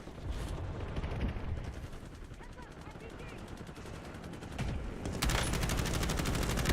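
Gunfire in an online team shooter video game, with rapid bursts crackling over continuous game noise and a louder, denser stretch of shooting near the end.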